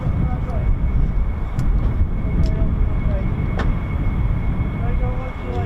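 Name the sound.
US Air Force fighter jet arriving at RAF Lakenheath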